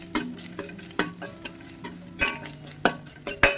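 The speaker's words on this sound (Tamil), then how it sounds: "நல்லா வதக்கிக்கோங்க" Ingredients being sautéed and stirred in a pan for a Tamil-style mochakottai (field bean) gravy with ground spice paste, a steady low sizzle broken by repeated sharp scrapes and clinks of a spoon against the pan.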